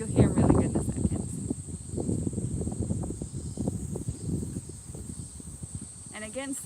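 A continuous high cicada drone fills a Tokyo park, sitting above louder low rustles and wind rumble, with a brief voice near the end.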